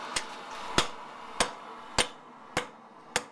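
Hammer blows ring out on a blade point held at the edge of an anvil during bladesmithing, six sharp metallic strikes spaced evenly about every half second, close and clear with no talk.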